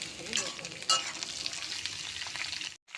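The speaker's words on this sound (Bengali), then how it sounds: "আলু সজনে ডাঁটা ভাজা হয়ে গেছে" Potatoes and drumstick pieces frying in a pan, giving a steady close sizzle with a brief louder crackle near the start and stirring noise throughout, broken by a short drop out at the end.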